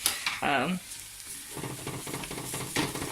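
Rinsed lentils stirred and fried with spices in a pot, a brisk sizzle with scraping stir strokes; a short voice-like burst near the start, then steady frying with repeated stirring scrapes.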